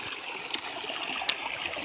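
Irrigation water flows along a narrow field channel beside a cumin crop, a soft, steady rushing trickle with a few faint splashy ticks, fairly quiet and alone.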